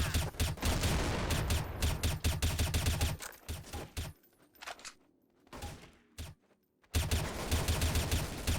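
Rapid automatic gunfire from Counter-Strike: Source on the Dust 2 map hammers in dense bursts, then drops to a few scattered shots and near silence before another loud volley breaks out.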